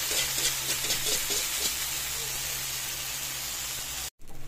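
Pieces of tofu go into a pan and fry with a steady loud hiss and sizzle up close, with some stirring; a brief gap of silence falls near the end.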